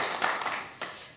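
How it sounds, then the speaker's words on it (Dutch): A small audience at a Dutch discussion session on internships gives a short, light round of applause, a few quick claps close by lasting just over a second. "En misschien ook al een klein applaus"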